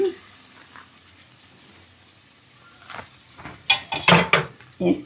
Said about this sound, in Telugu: ఈ అసర్లో బియ్యం వేసేసుకుందాం